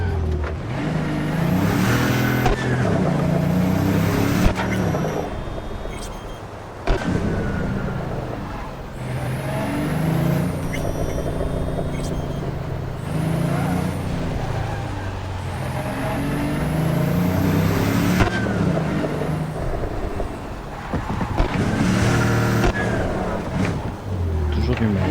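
Car driving in the video game Cyberpunk 2077, a steady engine drone with revving swells running nearly the whole time, loud and continuous, mixed with game music and someone talking over it.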